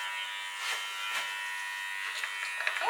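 Electric clippers buzz near a young horse in training, a steady, fairly quiet motor hum that runs throughout, with faint shuffling and small knocks toward the end.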